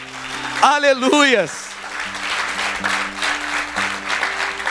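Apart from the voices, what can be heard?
church congregation applauding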